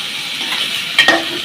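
Ginger paste, tomato and green chilies sauté in a pan for a Bangla-style wild boar curry. A short burst of busy sizzling ends with a couple of quick utensil clicks as the mixture is stirred.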